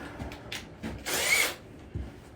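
An impact driver gives a short, sharp whirring burst, preceded and followed by quiet clicks and handling knocks.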